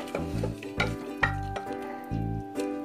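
Lauki and chana dal curry with chopped coriander being stirred in a pot, a series of soft scrapes and taps spaced about half a second apart over a low background hum, quiet and close.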